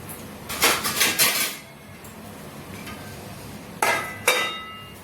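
A metal pot lid clatters onto a cooking pot in a quick burst of clanks, followed a few seconds later by a second clattering set.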